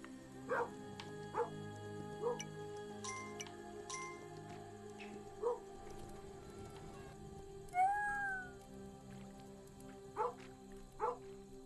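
Dog in the video game Norse Lands barking in sharp single woofs spaced a second or two apart, mid-distance over a steady low game ambience, with a brief tonal game sound partway through.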